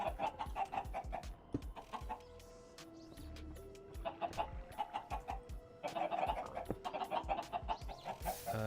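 Chickens cluck repeatedly in the Minecraft game with the Create mod, short bursts over steady game music and mechanical tones, with no talking.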